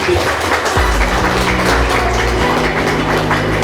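Applause from a crowd at a national science competition final, a dense steady clatter of clapping over a low sustained hum, loud and close throughout.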